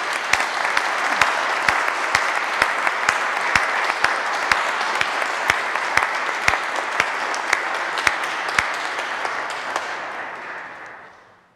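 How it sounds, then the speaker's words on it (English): Sustained applause from a church congregation following a Secular Franciscan profession ceremony, a dense steady wash of many hands clapping with a few louder nearby claps standing out, holding even for about ten seconds before fading away. "though we've applauded once already, let's do it again because we're all so happy."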